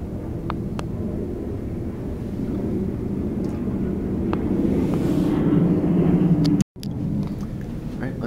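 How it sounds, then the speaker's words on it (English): A Delta MD-88 airliner passes near an airport, heard as a steady low jet rumble that swells gradually, a broad distant roar with no talk over it. "That's a Delta MD-88."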